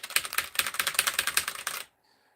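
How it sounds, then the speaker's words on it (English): Rapid typing on a cheap Amazon computer keyboard, a dense burst of clacky keystrokes close by for nearly two seconds, then stopping abruptly into near silence. "Using one of those cheap Amazon keyboards."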